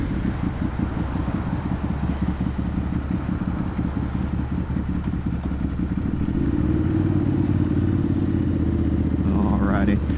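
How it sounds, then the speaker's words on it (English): A Ducati Monster 796 engine rumbles steadily with a deep, throaty exhaust note, rising in pitch near the end as the throttle opens. "And that exhaust just sounds so freaking good."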